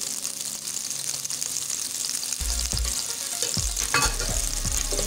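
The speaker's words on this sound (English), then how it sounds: "My oil is hot, and now I'll be adding my oil. I'll be adding my garlic." Garlic fries in hot oil for a Nigerian fried rice, a steady bright sizzle filling the pan, with a few low clunks and stirring knocks near the end.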